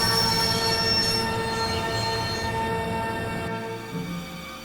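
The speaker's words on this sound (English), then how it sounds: "I'd always wanted to stop a train, and now was my chance." A train in the video game Broken Sword Reforged screeches to a stop, its wheels squealing in sustained high metallic tones over a low rumble that gradually fades near the end, with no talking.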